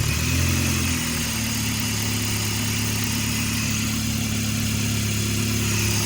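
A 2008 Toyota Scion xB engine idles steadily and loudly after repair, with the brake booster line disconnected following a misfire. It gives a continuous low hum with no voices.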